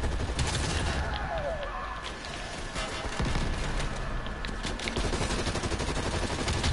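Continuous automatic gunfire in Call of Duty Cold War campaign, rapid bursts layered into a loud, unbroken barrage for nearly seven seconds, with faint voice sounds underneath.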